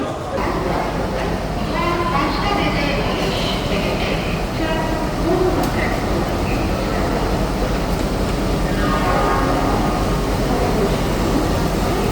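Steady loud rumble of a Vande Bharat Express train in motion with rattling carriages, heard from inside, with voices talking faintly underneath throughout.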